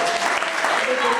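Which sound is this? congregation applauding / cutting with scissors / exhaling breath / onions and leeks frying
congregation applauding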